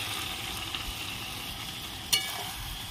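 Ginger, cumin, coriander and chili paste sizzles steadily in a hot pan, a close, even frying hiss with a couple of sharp crackles near the end.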